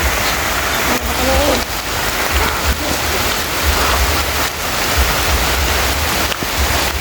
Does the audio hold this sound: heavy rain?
yes